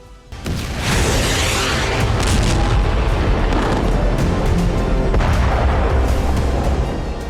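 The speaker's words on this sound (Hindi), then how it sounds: "आज भी दिन भर बम बरसते रहे।" Bombardment at the Israel-Lebanon border during wartime: a loud, sustained roar of explosions and booming blasts that rumbles continuously, with sharp bursts rising out of the dense low din and no voices.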